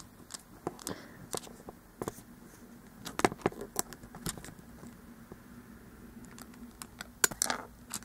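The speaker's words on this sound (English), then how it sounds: "click this button on her back" Sharp small clicks and taps from a plastic dragon toy sound irregularly at close range, with a brief pressing of the button on the toy's back among scattered handling noises in a quiet room.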